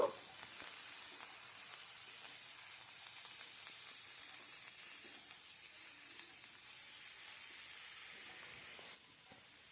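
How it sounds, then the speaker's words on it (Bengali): Vegetables for a broccoli, egg and potato curry fry with turmeric in a pan, giving a steady, fairly quiet sizzle and hiss that holds almost to the end, then drops slightly. "হলুদটা দিয়ে সবজিটা একটু ভেজে নেব"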